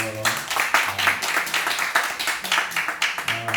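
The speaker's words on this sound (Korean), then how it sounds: "지금까지 찬양해 주셨는데 우리 박수 한번 쳐요." A church congregation at a Korean missionary prayer meeting worship service claps in a quick, regular rhythm, the claps pulsing evenly over faint low tones in the room.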